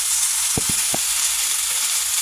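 Ground beef sizzles steadily in a hot pan, a constant bright frying hiss with a few soft thumps near the start.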